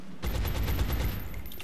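Sustained suppressing gunfire in the alien-hunting video game Xeno Hunters, a rapid unbroken burst of shots rattling steadily for over a second, fairly loud and heard alone without talk.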